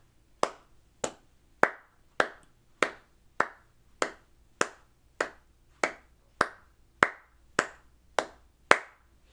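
Evenly spaced hand claps, roughly fifteen crisp, close strikes marking quarter notes as a flute practice accompaniment, each clap decaying quickly into quiet.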